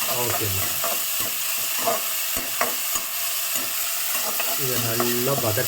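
Onions and tomato sautéing in a pan for beetroot masala, a steady close sizzle with repeated spatula scrapes and stirring strokes throughout, no talk.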